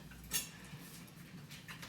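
A dog knocks its food bowl about: a single sharp metallic clank stands out early, then faint rattles and scrapes continue against a quiet room background.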